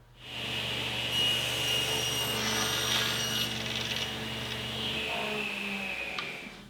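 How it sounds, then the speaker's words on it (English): Saw ripping long strips of poplar wood, a steady loud whining cut that holds for several seconds, then trails off as the blade spins down. "I'm going to start by ripping strips of poplar at 1 1/4 inches"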